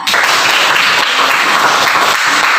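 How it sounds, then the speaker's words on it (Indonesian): A classroom of students claps during a social studies lesson, a short burst of brisk, dense applause that fills the room loudly from start to finish. "Tepuk tangan untuk Sinta."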